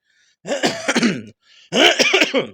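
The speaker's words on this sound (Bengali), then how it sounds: "সরি, আমার একটু কাশি হয়েছে।" Two close bursts of coughing and throat clearing, harsh and raspy, separated by a short pause.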